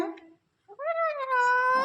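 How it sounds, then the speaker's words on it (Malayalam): A cat meows up close, a short chirp followed by a long, drawn-out wailing meow; a brief voice is heard at the start. "പൂച്ച വരുന്നു പൂച്ച"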